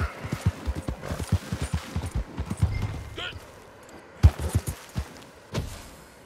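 Hooves clip-clop at a steady, unhurried pace as a horse is ridden in Red Dead Redemption, fairly close, with a few brief pauses and a voice talking over them.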